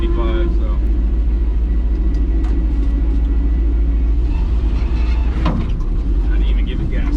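A 55-year-old farm truck engine rumbles steadily at close range while driving, a loud low drone with some rattling and a brief surge near the end.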